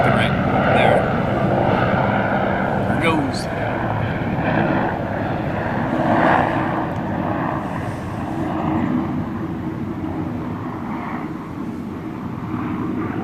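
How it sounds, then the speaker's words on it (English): A helicopter flies low overhead above timber country, its engine and rotor making a loud, steady broadband roar for the whole stretch, with a slight throbbing swell as it passes closest. "Let's wait for the token chopper to fly over my head, shall we?"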